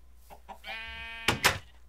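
Minecraft chickens give a short burst of clucks and bleat-like squawks, one drawn-out tonal call followed by two sharp, louder clucks, close and without talk.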